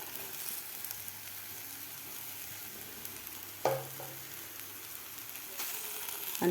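Green masala paste frying in a pan with cluster beans and potatoes, a steady soft sizzle with occasional louder clatters of a spoon against the pan.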